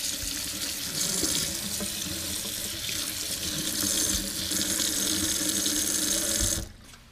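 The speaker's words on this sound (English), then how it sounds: "I'm gonna run this upstairs and give it a quick rinse" Tap water runs steadily into a sink as shriveled tomatoes, stored in wood ash, are rinsed, a continuous close rushing that stops abruptly near the end.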